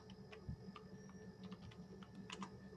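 A computer keyboard is typed on in quick, irregular clicks while a Google Form is filled in. The tapping is faint and close, under a low electrical hum, with no talking.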